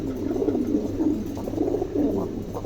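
Pigeons coo close by in low, rolling, repeated phrases that swell and fade over a steady background hum, with no talking.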